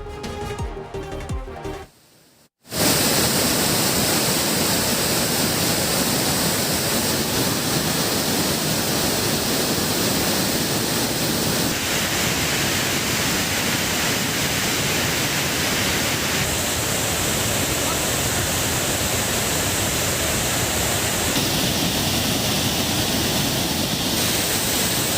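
Cauvery river water rushes at Hogenakkal in a dense, steady roar of falling and flowing water, loud and constant, after a brief musical sting at the start.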